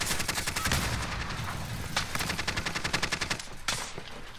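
Rapid bursts of gunfire from a video game, including a sniper rifle, crack in quick repeated volleys across the whole stretch, sharp and fairly distant, with a few louder isolated shots standing out.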